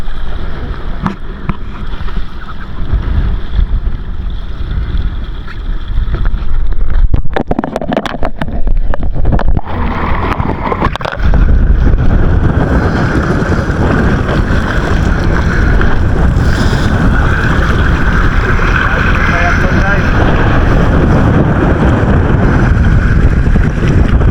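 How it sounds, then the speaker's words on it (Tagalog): Gusting wind buffets the microphone during an open-water triathlon swim, a loud, roaring rumble broken by harsh bursts, with a broad rushing wash of water and waves filling the rest. "Ito lang ang hangin at saka alon ang kontra nila eh."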